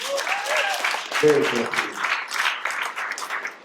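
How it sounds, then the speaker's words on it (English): Audience applause and cheering at a stand-up comedy showcase, clapping running beneath a comedian's voice as he speaks over it. "Round of applause if you agree with that theory."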